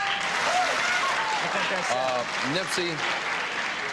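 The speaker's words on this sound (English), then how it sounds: "People were applauding." Studio audience applause on a 1982 episode of The $25,000 Pyramid game show, a steady dense wash of clapping that runs through the whole moment under people talking.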